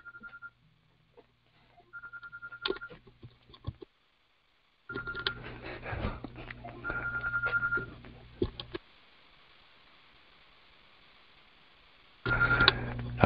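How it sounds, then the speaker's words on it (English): A mobile phone goes off during a church service, giving short repeated electronic tone bursts broken by pauses and clattering handling noise, then a final loud burst of ringing at the end. "my phone is going off and I can't cut it off"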